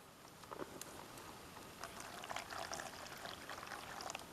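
Water pours into a pan at an outdoor camp, a soft continuous splashing trickle with small irregular bursts, faint and close.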